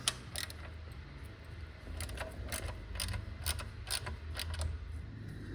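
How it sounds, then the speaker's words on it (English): Ratchet with a T30 bit on a short extension loosening exhaust bolts on a 2021 BMW F900R motorcycle, rapid clicking pawl ticks in uneven bursts, close and moderately quiet with no talk. "T30, just got it on a tiny extension, just to loosen these off."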